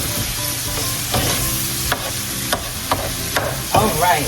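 Cooked meat for a meat lasagna sizzles loudly in a pan on the stove, a dense constant hiss with periodic scraping stirs and clacks of a utensil, no talking.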